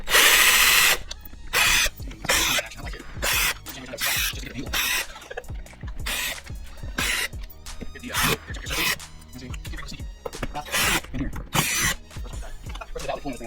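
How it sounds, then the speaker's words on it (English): A power drill backs screws out of the intake on a Yamaha FZ1 motorcycle during a teardown, with repeated short bursts of whirring separated by pauses, close and fairly loud. "these are screws, not bolts or anything, so they come out pretty easy"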